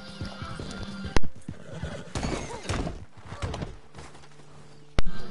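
A horse neighs and whinnies loudly in Red Dead Redemption 2, with clip-clopping hooves and a couple of sharp thuds, set in a game scene with no talk.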